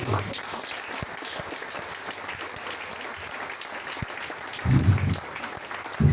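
Church congregation clapping and cheering during a French-language sermon, continuous applause with louder bursts of shouting near the end.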